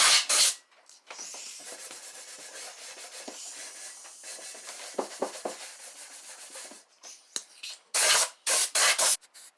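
Aerosol primer spraying onto a scuffed mini bike part during a Honda engine swap, in a string of hissing bursts of varying length, loud and close, with short pauses and a final series of strong blasts.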